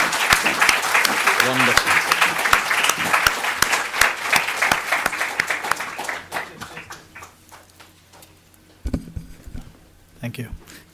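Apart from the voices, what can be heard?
audience applause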